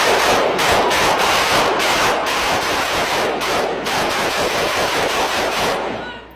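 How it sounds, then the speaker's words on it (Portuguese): A dense, continuous burst of rapid gunfire fired into the air, lasting about 14 seconds, loud and crackling with overlapping shots that echo, then cutting off abruptly. "14 segundos de tiro pro alto"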